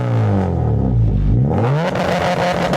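A K24-swapped Honda Civic EP3 Type R accelerates hard from close by, the engine note climbing steadily through the revs, dropping briefly at a gear change, then rising again, loud and alone.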